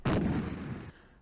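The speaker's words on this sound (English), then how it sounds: "Oh my god, it's a tank." A tank fires in The Ninja Warriors on the Atari ST, one loud, booming, noisy blast that decays over about a second and then cuts off abruptly.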